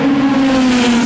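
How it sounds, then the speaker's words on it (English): A Ferrari race car roars past on the start-finish straight, a loud, close, steady engine note that drops slightly in pitch as it goes by. "That was a Ferrari."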